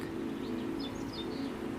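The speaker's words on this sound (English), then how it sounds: "Birds flying here and there, to and fro." Birds chirp faintly and sporadically while building nests, a few thin, high calls scattered over a steady low hum.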